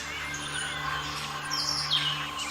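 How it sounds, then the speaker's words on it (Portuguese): Forest birds chirp and twitter in a continuous, fairly faint chorus, high sparse calls layered over a steady background hum. "Que pássaros são esses?"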